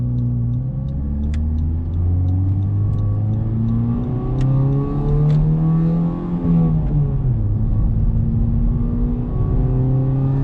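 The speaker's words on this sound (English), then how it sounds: "this first clip is going to be with the Remus Exhaust all the way closed" A Honda Civic Type R with a catless downpipe, front pipe and Remus exhaust with the valves closed revs up and settles in a deep, steady drone, with a rising and falling pitch near the middle.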